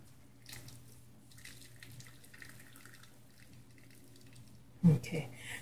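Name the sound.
hot water running from tap to soak tamarind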